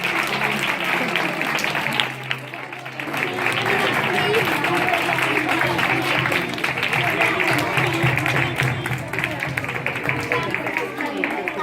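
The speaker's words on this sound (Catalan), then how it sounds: "aplaudiu més fort, no?" After a 2017 performance of the Sant Jordi legend, the audience gives loud, continuous applause that holds for over ten seconds, with voices calling out and talking underneath.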